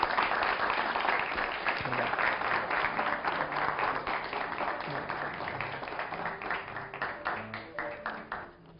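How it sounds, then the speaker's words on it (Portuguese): Audience applause for a guest speaker at a talk on the psychological effects of crisis in postmodernity: a crowd claps steadily and densely, then thins and fades toward the end, with faint voices underneath. "gostaríamos de concluir com um aplauso proporcionado à generosidade do nosso palestrante"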